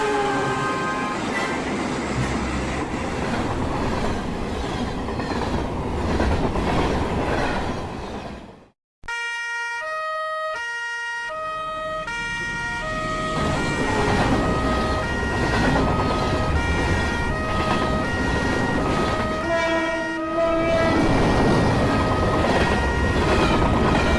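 A train rushes steadily along the rails with a dense, continuous rumble and rattle, its horn sounding in a short chord partway through before the roar builds again.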